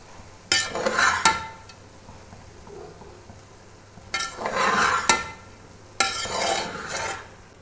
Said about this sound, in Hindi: ये मसाला जो नीचे है वो अच्छी तरह इसमें मिक्स कर लें